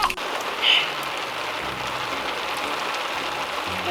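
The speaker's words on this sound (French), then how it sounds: "Oh, il pleut!" Steady rain falls and patters continuously on surfaces close by, a dense even hiss throughout with a brief louder splash near the start and no voices.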